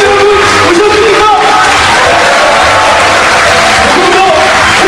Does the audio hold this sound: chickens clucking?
no